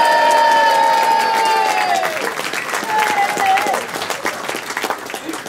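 Audience applause and cheering for a tuba player at a live early-jazz concert, loud clapping with whoops and shouts that begins over fading voices and sliding tones, then continues as dense, lively clapping.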